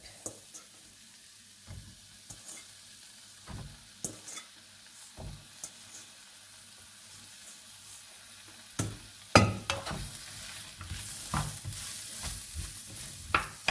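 Mushrooms go into a pan for a duck and mushroom pie, with faint sizzling and soft stirring scrapes, a louder clatter as they drop in partway, quiet overall with no talking.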